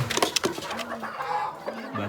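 Chickens cluck close by in short, repeated bursts as they peck at a scattered feed mix of millet and wheat.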